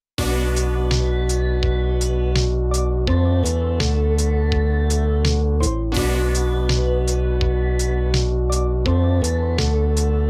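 A dense UVI Toy Suite electric synthesizer passage, without rotary effect, plays over a steady bass and rapid repeated notes, loud and continuous, with no talking.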